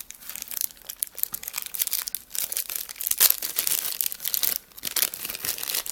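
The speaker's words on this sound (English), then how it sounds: "and you open up the plastic bag." A plastic bag holding a Canon 5D Mark III camera battery is opened by hand, giving close, irregular crinkling and rustling with sharp crackles that comes in bursts for several seconds.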